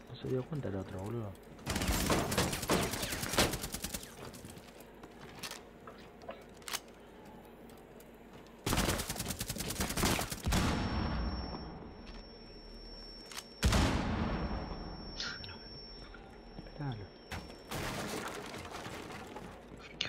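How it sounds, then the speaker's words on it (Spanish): Bursts of rapid game gunfire come in several volleys separated by quieter gaps, with crackling shots and a sustained electronic tone partway through. "Son dos cagando a tiros a Blitz, boludo, y no muere."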